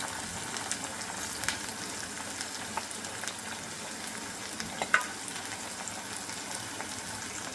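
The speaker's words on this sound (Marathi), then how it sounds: "तर छान आपल्याला तेलात होऊ द्यायचं आहे जोपर्यंत कांदा लालसर होत नाही" Onion fries quietly in oil in a pan, a soft, continuous sizzle dotted with small crackles and a few sharper pops.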